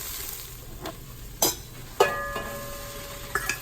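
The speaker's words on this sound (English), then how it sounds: "At this point, I'm going to add my sausage back in." Sausage goes back into a hot pan of cooked seasoning vegetables for black-eyed peas and sizzles softly and steadily, with a few sharp clinks and scrapes of a utensil against the pan; no one speaks.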